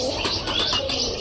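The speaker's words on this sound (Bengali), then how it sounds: "এখন আমি কবুতরকে খাবার খেলাবো" Pigeons gather close by at feeding time, a brief burst of fluttering wings and soft chirps and coos, fairly loud and with no voices.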